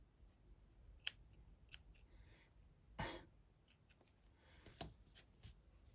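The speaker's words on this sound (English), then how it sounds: "With my not sharp scissors." Several separate snips of dull scissors cutting fabric, spaced irregularly and close by, with quiet breathing and soft rustling between cuts.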